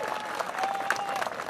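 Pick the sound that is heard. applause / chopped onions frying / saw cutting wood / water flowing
applause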